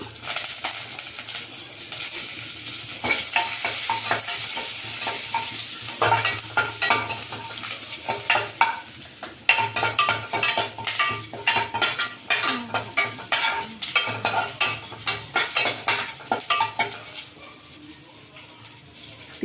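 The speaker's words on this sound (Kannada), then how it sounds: "ಸಾಸಿವೆ ತಿಳಿತಾ ಇದೆ ಸ್ವಲ್ಪ ಜೀರಿಗೆ ಹಾಕ್ಕೊಳ್ತೀನಿ" Mustard seeds and cumin tempering in hot oil, a crackling sizzle with clinks of a spoon against the pan, then a run of quick rhythmic stirring scrapes toward the end.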